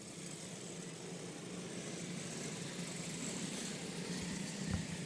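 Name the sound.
race car engine making an odd noise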